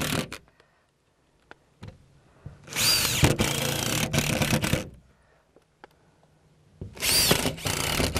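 A power drill drives screws through spider ties into plywood formwork in two bursts of whirring, each ending with a bite and stop, separated by quiet handling knocks.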